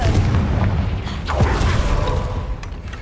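A Confringo blasting spell explodes in the Hogwarts Legacy video game, producing a loud, sustained rumbling boom with crackling debris that fills the whole stretch.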